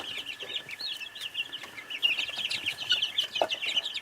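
Young chickens, about 9 days old, cluck and peep steadily at night in a quiet setting, a busy chorus of small chirpy calls with a faint constant hum beneath.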